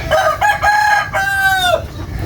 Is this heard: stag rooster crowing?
yes